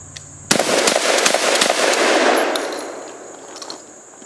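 Remington 870 pump-action shotgun fired several times in quick succession at a single target, the blasts running together into a loud, sharp barrage that tails off with echo.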